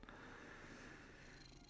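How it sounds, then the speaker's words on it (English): A cat purring up close, a soft, continuous rumbling drone that holds steady and faint throughout, with no voices. "cat, you are just purring so loud."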